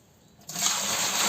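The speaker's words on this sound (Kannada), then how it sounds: "ಈ ಬಕೆಟ್ಗೆ ಹಾಕಿ ಇದ್ರ ಫುಲ್ಲು ನೀರು ಹಾಕ್ತೀನಿ" Water gushes into a bucket of kitchen and garden compost waste, starting abruptly after a near-silent moment and continuing as a loud, steady pour.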